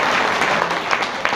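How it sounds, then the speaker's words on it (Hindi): Audience applause at a spiritual discourse by a Brahma Kumaris Rajyogi at Shantivan, a dense, steady wash of clapping from a crowd, fairly loud and filling the short moment alone. "ताली तो बजाओ।"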